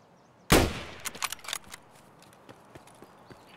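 A single loud gunshot rings out in the Escape from Tarkov shooter, followed by a few fainter, scattered sharp cracks and thuds trailing off.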